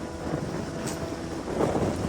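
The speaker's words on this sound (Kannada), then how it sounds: "ಏನು ಗಾಳಿ ಆಹಾ ತಣ್ಣನೆ ಗಾಳಿ" Cool wind gusting across an open hilltop at Ambaji Durga hill near Chintamani, Karnataka, a steady broadband rush buffeting close to the microphone, swelling slightly toward the end, with no voices.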